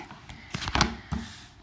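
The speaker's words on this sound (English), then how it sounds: "I shuffle and deal with my oracle decks differently" An oracle card deck is shuffled by hand in a quiet room, with a few soft riffling flutters and then a quick burst of crisp card slaps close by.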